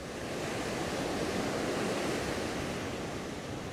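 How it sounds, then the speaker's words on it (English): Big waves breaking and crashing on a sandbank off a beach, a loud continuous roar of surf with some wind rumble on the microphone and no speech. "The big waves are breaking out the back and smashing up on the bank out the back."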